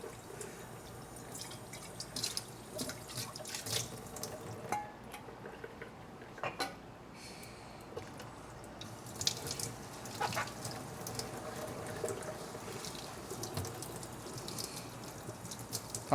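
Kitchen tap running as a whisk is rinsed in the sink, steady low water noise with scattered clinks and drips of metal against the basin.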